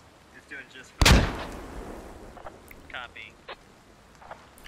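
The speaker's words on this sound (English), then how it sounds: "Muff's gonna add a grenade in." A loud nearby grenade blast in the military shooter game Squad, a single sharp boom with a rumbling tail, followed by scattered distant gunshots while players talk.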